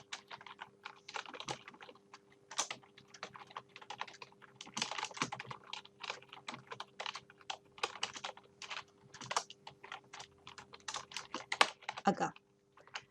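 Steady typing on a computer keyboard while text is entered in WordPad, with quick close key clicks in uneven bursts and brief pauses throughout, and no voice over it.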